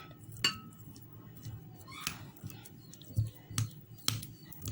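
Butter being mashed into a fine paste in a bowl, with several sharp clinks and knocks of utensil against the bowl scattered over a soft, low background rumble; no voices.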